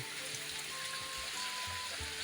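Steady rain falls outdoors on an Indonesian oil palm plantation, a soft continuous wash of drops throughout with a faint tone in the background.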